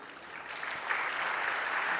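An audience at a Jain religious discourse breaks into soft, distant clapping that builds slightly and then holds as a steady, faint patter.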